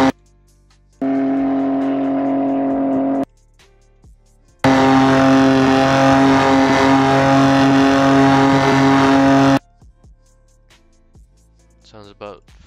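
A BMW S55 engine, set as a distant rear-load sound in a game sound mod, plays as two sustained, even-pitched droning tones separated by a short gap, then falls to faint clicks.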